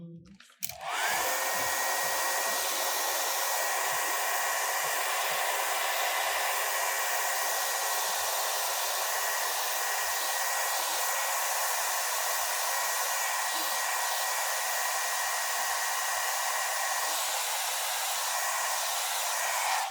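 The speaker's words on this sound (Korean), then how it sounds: "그냥 빨리 말려버리겠습니다. 드라이기로." A hair dryer starts with a click and blows steadily at full power on watercolor paint for the whole stretch, a loud continuous whooshing hum.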